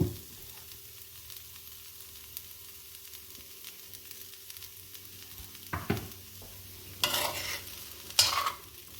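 Vegetable fried rice stir-fried in a pan with sesame oil gives a faint, steady sizzle, with a few louder scraping clatters of the spatula toward the end and no talking.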